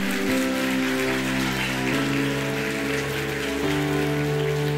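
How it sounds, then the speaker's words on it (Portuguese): A church congregation claps steadily in a worship service, a continuous crackling wash of applause layered over sustained keyboard chords that shift pitch now and then, with no talking. "Aleluia, você pode aplaudir a Ele, meu irmão."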